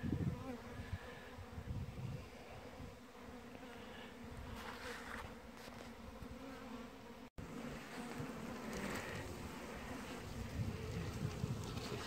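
Honey bees buzz continuously around hives in an apiary, a steady droning swarm close to the microphone, with light wind noise and no talking.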